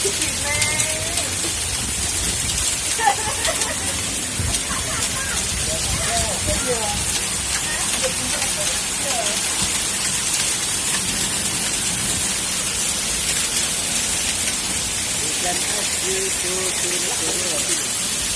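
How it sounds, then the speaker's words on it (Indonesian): Steady dense patter of hail striking surfaces throughout, during a hailstorm with strong winds in Bojonegoro, with voices speaking faintly in the background. "Hujan es, Masya Allah, segini."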